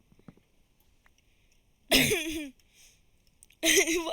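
Two harsh coughs burst out, spaced apart, loud and close over a quiet background.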